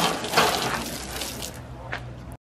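Water sprays steadily over a Nissan Skyline drift car in a continuous rinsing hiss, close and fairly loud, before it cuts off abruptly at the end.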